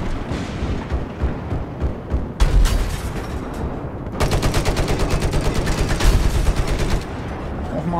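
Battlefield 4 gunfire rattles in rapid automatic bursts, with heavier single booms early on, loud and close over a noisy battlefield.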